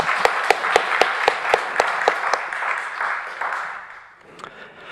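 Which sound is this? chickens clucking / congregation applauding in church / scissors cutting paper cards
congregation applauding in church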